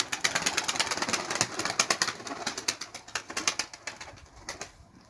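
A smoky grey (boz dumanlı) pigeon flaps its wings in repeated bursts, struggling and unable to land, close and fairly loud, with no one talking.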